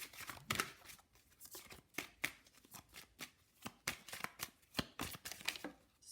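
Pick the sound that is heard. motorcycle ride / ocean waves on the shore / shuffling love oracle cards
shuffling love oracle cards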